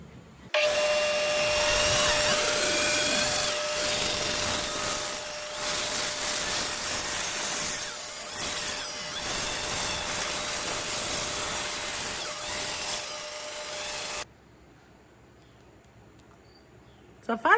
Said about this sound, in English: he's going to resaw it down on the bandsaw